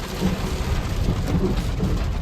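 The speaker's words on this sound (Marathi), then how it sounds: "असा पाऊस चालू झाला बरं वाटलं" Rain beginning to fall during a road trip stop, a dense steady patter and hiss of drops on surfaces with a low rumble beneath, fairly loud and continuous.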